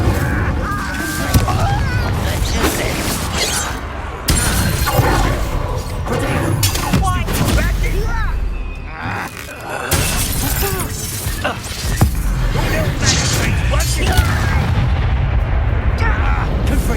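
An Incendio fire spell cast in the video game Hogwarts Legacy, a loud, dense mix of crackling blasts, shattering and booming impacts that goes on throughout with short dips, along with game voices.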